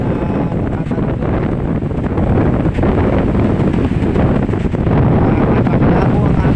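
Strong sea waves churn under heavy wind that buffets the microphone, a loud continuous roar near open water with surges of surf rolling in.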